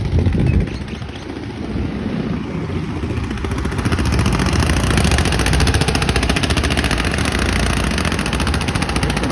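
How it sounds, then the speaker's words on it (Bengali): Engine boats crossing a river toward Dhaka, a loud continuous rapid mechanical chugging that swells slightly and holds steady, close by. "এখানে দেখেন যে আরো অনেকগুলো নৌকা আসতেছে"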